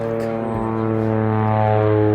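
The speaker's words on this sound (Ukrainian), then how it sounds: "Ви чуєте цей звуку? Що? Літак." A Spitfire fighter plane flying overhead in a film, its engine a loud, steady droning roar that holds throughout with no speech.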